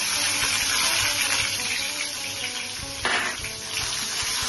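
Ginger, garlic, onion and green chili paste hits hot oil in a pan and fries with a steady, loud hiss and sizzle that carries on without a break.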